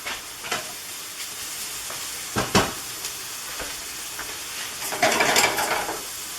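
Vegetables with mushrooms and tomatoes frying in a pan for a vegetarian chili, a steady soft sizzle with occasional stirring scrapes and clatters, louder hissing bursts near the end, no talking.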